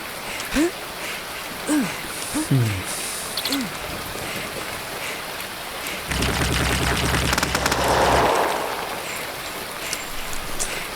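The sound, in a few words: gunfire in a zombie video game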